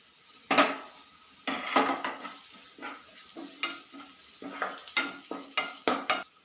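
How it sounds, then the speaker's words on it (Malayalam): Finely chopped ginger and garlic frying in a pan, with repeated brisk metal-spoon scrapes and clinks against the pan over a low sizzle, close and fairly loud in a quick irregular rhythm, no voices. "ഇനി ഇതിലേക്ക് കുറച്ച് ഇഞ്ചിയും വെളുത്തുള്ളിയും കൂടെ ചെറുതായിട്ട് അരിഞ്ഞത് അതിട്ട് കൊടുക്കാം"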